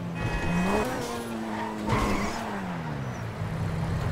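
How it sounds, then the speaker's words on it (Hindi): Tires squeal in long wavering tones as a Lamborghini Aventador slides and skids in GTA V, over a steady engine drone, fairly loud and without speech. "लग रहा है मक्खन को ज्यादा ही हो गया है, फिसल रही है गाड़ी"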